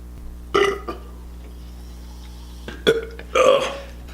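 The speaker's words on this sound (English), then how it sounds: "You gotta burp to make space" Loud burps after drinking soda: one deep belch, then a quieter pause, then two more close together near the end, each rough and throaty over a faint low hum.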